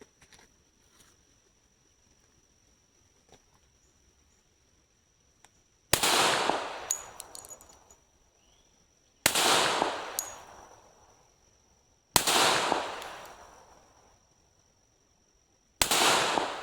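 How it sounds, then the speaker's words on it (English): Four loud, sharp pistol shots from a Rock Island 1911 in .45 ACP, fired one-handed a few seconds apart. Each crack rings out and fades, following faint handling clicks and near-silence. "we're just going to do some one-handed shooting and see how we do"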